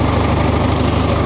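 A four-wheel-drive 100-horsepower loader tractor with a cab runs its engine in a loud, steady, close rumble that holds without change.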